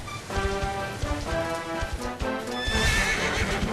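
Hooves clatter in a steady trot as a horse in Dragon Quest XI lets out a neigh; the game sound is near and fairly loud, with no speech.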